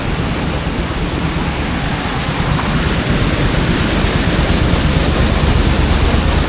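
Loud, roaring rush of fast-moving floodwater in West Virginia during rain season, a constant heavy torrent with no pauses and no voices.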